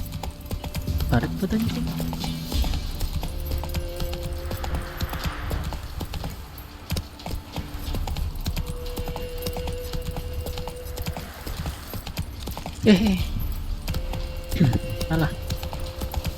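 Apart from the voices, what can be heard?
horse hooves galloping in video game The Witcher 3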